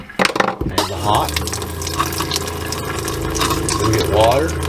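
Cold, then hot water runs from the kitchen faucet in a horse trailer's living quarters during winterizing, a steady close rushing stream that lasts throughout, with a brief voice near the start.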